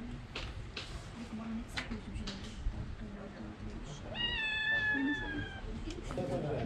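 A cat in a street in Rabat, Morocco, lets out a drawn-out, wailing meow near the end, following softer shuffling and distant background noise, fairly close and clear.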